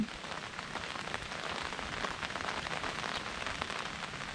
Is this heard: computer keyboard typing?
no